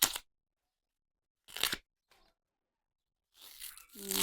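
A large, tender bamboo shoot is peeled by hand in short bursts of close ripping and tearing, separated by silent gaps, with a brief faint rustle in between.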